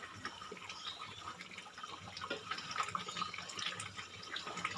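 Water poured into a pot of Bengali-style mutton curry with potatoes, a steady soft splashing and trickling stream close by, fairly quiet and continuous with no voices.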